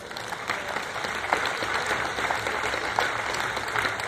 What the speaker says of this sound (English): I think that deserves some applause, don't you?